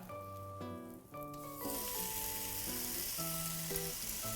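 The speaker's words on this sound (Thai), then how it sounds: "ใส่เบคอนลงไปครับ" Bacon sizzles and crackles steadily in a hot pan, a dense frying hiss that grows louder partway through, with soft music underneath.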